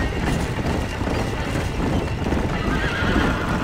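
Horses in the Red Dead Redemption video game gallop with rapid, continuous hoofbeats and let out neighs, loud and close throughout with no talking over them.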